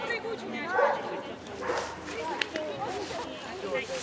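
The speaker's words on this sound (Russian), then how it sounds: "Собаки разные, прилетят." Several dogs at an outdoor fun-sports event bark and yip at a middle distance, with scattered barks mixed under steady nearby talking.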